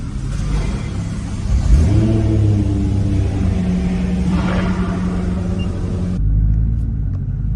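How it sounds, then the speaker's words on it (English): A Nissan GT-R engine warms up with a loud, close, rumbling idle, then climbs through a quick rev before settling back to a steady drone, ending in a low rumble. "The GTR. Let it warm up first."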